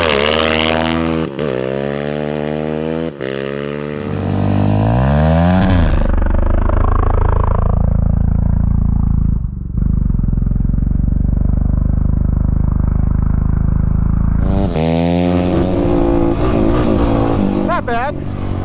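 An off-road vehicle on Obor Advent tires launches hard on hard-packed dirt in second gear, engine revving up loud through rising harmonic sweeps with shifts, then a sustained roar close by, tires spinning off the line.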